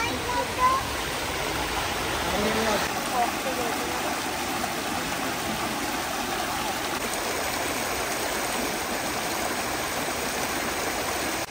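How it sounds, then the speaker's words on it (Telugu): Waterfall and stream at Mahabaleshwar, Maharashtra, giving a loud, steady rushing roar of flowing water close by that lasts throughout, with no breaks. "ఇది చూడండి వాటర్ భలే వస్తున్నాయి అంతా"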